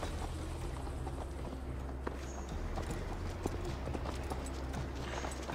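A horse ridden at a steady pace in Assassin's Creed Valhalla, its hooves clip-clopping in an even rhythm over a low rumbling background bed.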